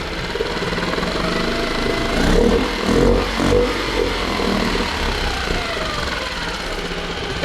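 A Nissan outboard boat motor catches after a pull start and runs with a steady rough idle, surging briefly a few times near the middle before settling back into its even drone, with no talking.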